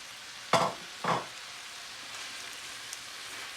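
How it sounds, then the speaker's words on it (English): Minced meat for keema curry is stirred in a pan, giving two short, fairly loud scraping sizzle bursts early on, then a faint, steady frying hiss with no talking. "Now add your mince, break it all up so it doesn't get lumpy."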